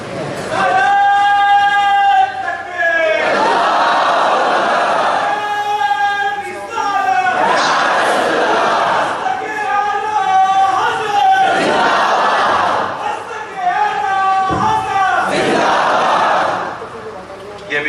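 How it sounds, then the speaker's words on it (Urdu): Large crowd at a religious gathering chanting slogans in long drawn-out unison calls, repeated in loud surging waves about every two seconds, with voiced harmonic chanting filling the whole stretch. "ذرا نعرے شارٹ نہ لگاؤ، تھوڑا کنجوس دکھتی ہے، تھوڑا لانگ لانگ لگانا چاہیے"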